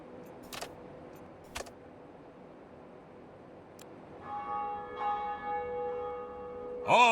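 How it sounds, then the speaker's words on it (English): Church bells toll in the railway game Rail Route, entering faintly after a few quiet seconds with a couple of sharp clicks, then ringing out in layered, sustained tones that swell toward the end. "Ah, the church bells."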